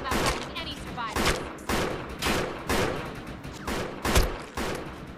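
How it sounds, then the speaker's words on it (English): A shotgun fires in the video game Defiance, letting off a string of about eight loud, punchy blasts roughly every half second to second. Each blast is followed by a short decaying tail. "Probably using a shotgun from long range is probably not the smartest thing, huh?"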